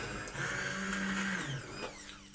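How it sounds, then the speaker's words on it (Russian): An immersion blender whirs steadily as it purees pumpkin soup, a loud continuous motor hum that shifts pitch near the end as the blade moves through the mixture. "нужно все это снять с огня и перемолоть блендером. Я это делаю вот таким вот погружным блендером"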